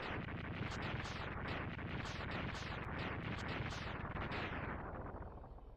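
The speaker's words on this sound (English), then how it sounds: "What was that explosion?" Explosions in Mega Man X3, a rapid chain of sharp crunching blasts repeating roughly every quarter second over a dense roar, loud throughout before fading near the end.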